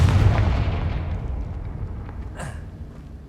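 A Confringo blasting spell from Hogwarts Legacy goes off in one loud, booming burst that rumbles and slowly fades, with a brief sharp crackle near the end.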